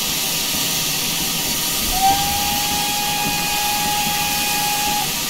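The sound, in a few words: steam locomotive whistle in video game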